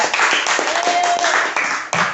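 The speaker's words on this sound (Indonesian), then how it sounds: "tepuk tangan untuk kelompok 3" Schoolchildren in an elementary classroom clap for a group that has just presented a wiring project, a short burst of close, uneven applause.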